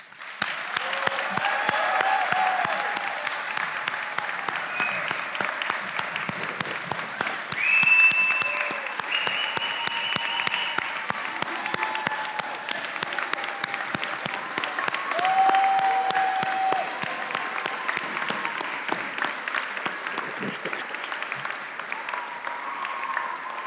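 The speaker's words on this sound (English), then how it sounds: "Please give them one more round of applause." Audience applauding the inductees at a college athletics hall of fame induction ceremony: a long, sustained round of many hands clapping in a large room, steady and full for over twenty seconds, with occasional faint whistles or cheers.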